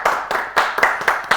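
Several people clap in a quick, uneven rhythm at a Kyrgyz comedy show, the claps close and crisp with no voices over them.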